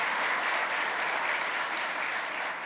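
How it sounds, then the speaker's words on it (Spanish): An audience at a public conference on artificial intelligence in government applauds a woman vice president, a dense, even wash of many hands clapping steadily throughout at moderate distance, with no talk over it. "Entonces ahí le pido también un aplauso."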